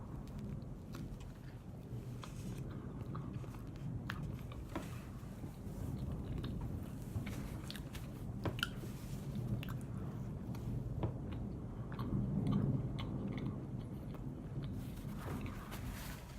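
Soft, close crunching and squishy chewing of a Walmart glazed donut, repeated bites and mastication over a faint low outdoor rumble of stormy wind, no talking.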